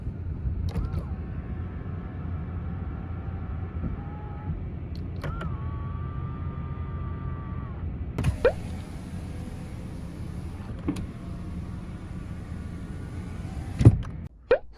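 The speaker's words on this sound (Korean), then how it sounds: "접이식 사이드미러" The electric folding side mirrors of a used Kia K5 whir as their motor runs twice for a few seconds each, followed by a longer whine, scattered clicks and a couple of thumps near the end.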